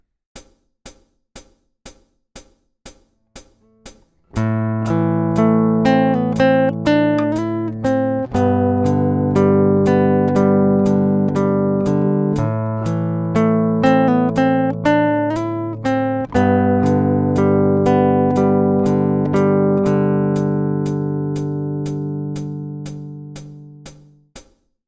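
Left-handed fingerstyle acoustic guitar plays the first line of theme 2 of a piece, beginning with a steady metronome click alone before sustained picked chords and melody enter and continue over the ticking beat, close and clear.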